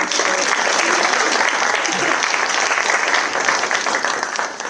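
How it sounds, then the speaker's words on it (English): An audience at a young playwrights' winter showcase gives a round of applause, a full continuous clapping that holds strong and fades slightly at the end, with a few voices underneath. "So another round of applause for those."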